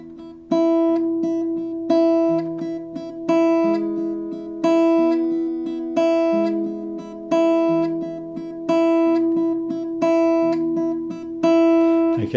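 Solo fingerstyle guitar tremolo with the index finger accented: rapid repeated plucks over a shifting bass line, a strong attack landing roughly every 1.3 seconds in an even cycle, close and clear with no talking.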